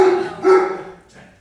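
A dog barks twice, loud and close, with a short yelping tail and a faint whine at the end, and no voices over it.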